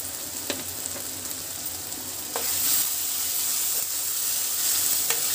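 Masala for smoky chana dal frying in oil, giving a continuous close sizzle that grows a little louder partway through, with occasional spoon taps and stirring scrapes and no voices.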